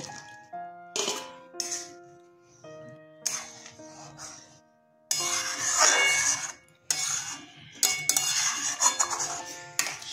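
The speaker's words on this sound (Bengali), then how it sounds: "এবার আমি এখানে এই ভাজা পনিরগুলোকে দিয়ে দেব।" Fried paneer pieces dropped into a simmering malai gravy in a pan, giving a few close utensil clinks and scrapes, then a louder, steady sizzling bubble of cooking that swells in bursts toward the end.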